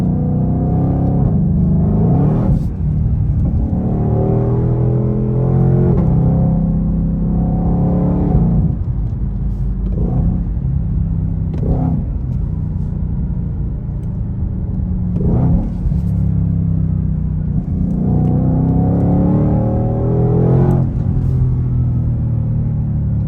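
A Ford Mustang GT500 is held in second gear, its engine rising in a series of quick rev blips every few seconds over a steady low rumble heard from inside the car.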